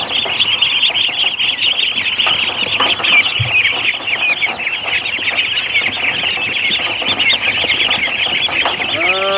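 A flock of Muscovy ducks calls continuously, overlapping quacks and squawks crowding together, loud and close for the whole stretch.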